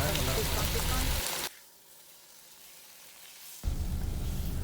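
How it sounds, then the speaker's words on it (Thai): Loud sizzling of catfish pieces stir-fried with curry paste in a hot pan for a Thai curry, a crackling hiss that drops away for a couple of seconds, then returns at full strength. "ผัดจนกลิ่นหอมได้ที่แล้วเราก็นำปลาดุกลงผัดค่ะ"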